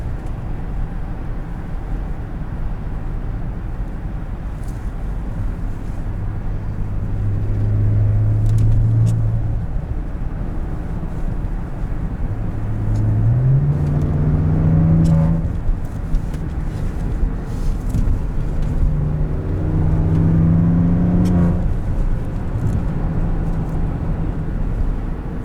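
A 2014 Maserati Ghibli cruising with a steady low engine drone that swells in a few smooth rising revs as it accelerates, heard from inside the car without talk.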